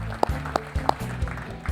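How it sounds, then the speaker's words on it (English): Quiz finalists at a grand finale are clapped for: a brief burst of audience applause mixed with a voice speaking over it. "I think you'll deserve a big round of applause,"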